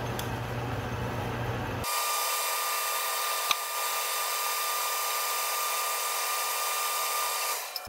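An Atlas metal lathe turns while machining a chuck backplate, giving a steady, close mechanical whine with a faint tonal hum that runs unbroken for the whole stretch, with no voices.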